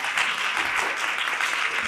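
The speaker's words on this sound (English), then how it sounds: "A round of applause for our speakers." An audience claps for speakers at Brookline's Asian American & Pacific Islander Heritage Day celebration, steady dense applause filling the room without a break.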